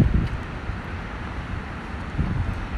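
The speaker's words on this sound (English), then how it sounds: "It's windy." Wind buffets the microphone outdoors while a DJI Mini drone is flown toward a stadium, a steady low rumble with stronger gusts at the start and near the end, no speech.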